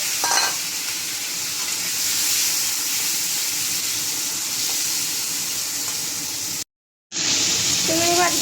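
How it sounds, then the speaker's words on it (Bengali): Prawns coated in salt and turmeric sizzle loudly in hot mustard oil, a dense steady frying hiss that drops out briefly before resuming close up. "চিংড়ি মাছগুলো দিয়ে দেবো।"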